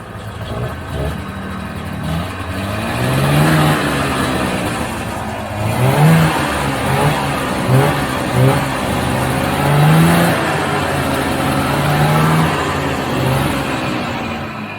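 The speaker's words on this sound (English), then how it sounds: "fire it up, spin it around about 5-6 revolutions, shut her off" A vintage Polaris snowmobile engine on a stand is started and revved repeatedly, with throaty, rising and falling two-stroke bursts close by over a steady idle.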